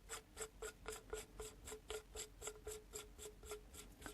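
Threaded Quickfill fill valve being unscrewed from an older BSA air rifle, a steady run of about fifteen evenly spaced raspy metallic clicks like a ratchet, close and fairly quiet with no talking.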